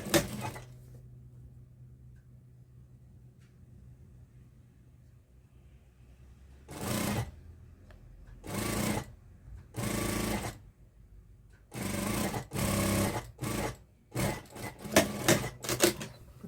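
A sewing machine stitches fabric for a flower sun bonnet in several loud bursts of rapid mechanical whirring, separated by short pauses, with quiet room tone between runs.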